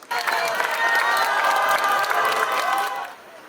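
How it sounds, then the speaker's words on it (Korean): A crowd at a street rally in Changwon protesting Japan's nuclear wastewater release claps and cheers with shouts rising over steady applause, loud and close, then fading abruptly. "먼저 청소년 두 분 여러분을 박수로 모시겠습니다"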